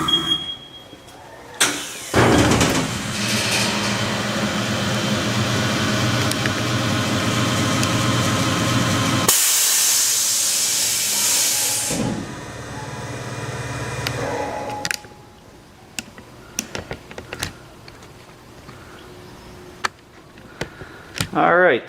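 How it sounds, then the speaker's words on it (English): A tire balancing machine spins a steel wheel, a loud steady whirring hum with a grinding, squealing edge that holds for several seconds, then cuts off and leaves quieter shop clatter and scattered clicks. "it's going to spin the wheel to figure out our balance problems."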